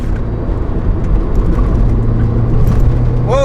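Subaru WRX Limited engine pulling hard after a downshift from fourth to third gear, a loud steady drone with road rumble that holds close and constant throughout.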